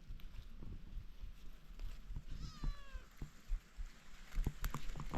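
A cat on a chili farm gives a single clear meow, rising and then falling, over quiet outdoor rustling and scattered soft knocks.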